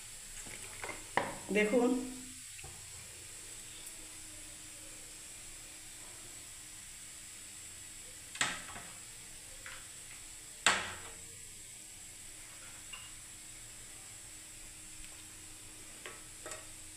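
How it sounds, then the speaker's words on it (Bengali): Refined oil sizzles quietly in a pan while cabbage curry is cooked, a faint steady hiss running throughout, broken by a few clanks and stirring bursts and a brief spoken word. "প্রথমে রিফাইন তেল দিয়ে দিলাম বন্ধুরা।"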